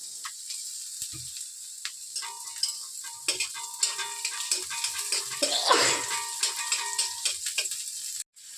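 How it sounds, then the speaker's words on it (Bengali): Chopped onion, fried until reddish, and minced garlic cook in a pan with a soft sizzle under repeated scraping and tapping strokes of a stirring spoon, fairly faint and close. "পেঁয়াজটা ভাজা হয়ে গেলে এর মধ্যে রসুনের কুচিটা দিয়ে দেব রসুনটাকেও ভালো করে ভেজে নেব"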